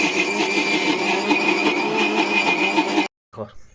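Countertop grinder machine grinding soaked lentils into paste in a village home, a loud steady whirring motor hum with a high whine running about three seconds, then cutting off abruptly.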